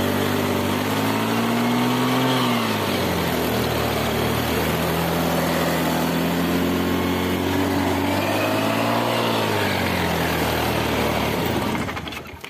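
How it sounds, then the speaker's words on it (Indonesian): A fuel-injected motorcycle with a throttle-hang fault revs on its own, the engine note rising and falling in long, loud, steady surges before cutting out near the end. "jadi ini penyakitnya si motor ngegas sendiri ya"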